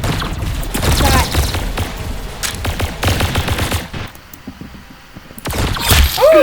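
Rapid gunfire from the Roblox game Arsenal, with dense bursts of automatic shots and single cracks, loud and close, broken by a short lull, while excited voices talk over the shooting.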